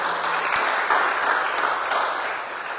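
A church congregation applauding and cheering in praise of the Lord, a dense continuous wash of clapping that holds steady throughout.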